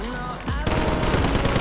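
Rapid automatic gunfire from the video game Warzone rattles in a fast, loud burst, following a brief moment of talk and game sound.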